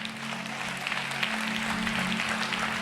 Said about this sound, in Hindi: यदि आपको भरोसा है इस बात पर तो अपनी ताली की आवाज को ऊंचा उठाएं।